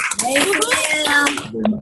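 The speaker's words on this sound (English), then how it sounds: "Let's all give a round of applause for Sunil." A brief smattering of clapping from participants on a Zoom call, applauding Sunil, mixed with overlapping voices and a child's chatter.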